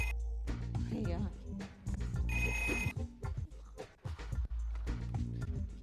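Telephone bell ringing in a home, a bright repeated ring that sounds amid background music and speech, fairly loud and mixed with other sounds.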